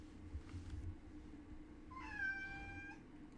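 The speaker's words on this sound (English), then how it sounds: "the cats are being loud. I think one cat's trying to chase the other" Two house cats make noise indoors during a chase, and one lets out a loud, long, rising meow over a steady low room hum.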